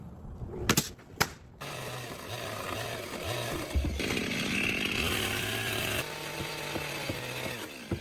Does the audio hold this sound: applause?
no